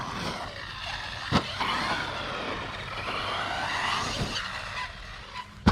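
HNR Mars 4S RC mini truggy on Pro-Line Badlands tyres driving, a buzzing electric motor whine rising and falling with sharp tyre scuffs and knocks across the run.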